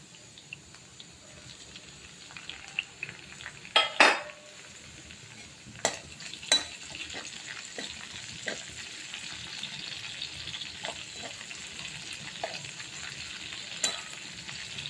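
Green chillies and diced potato frying in oil in a pan for sabudana khichdi, with a steady close sizzle and a few sharp clatters of a spoon stirring against the pan.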